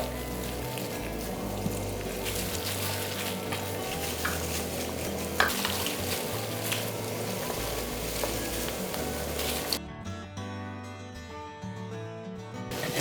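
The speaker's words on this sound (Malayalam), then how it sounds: "നമുക്ക് ചിക്കൻ ഒന്ന് ഫ്രൈ ചെയ്തെടുക്കാം." Marinated, coated chicken pieces fry in hot oil for restaurant-style chilli chicken, a steady loud sizzle with stirring, cutting off abruptly near the end to leave a faint low hum.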